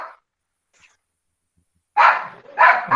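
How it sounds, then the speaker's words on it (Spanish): A frightened dog in a house during rain, giving several loud close barks in quick succession after a brief yelp and a near-silent pause. "empezó a llover y estoy acá en una parte que el perro se asustó"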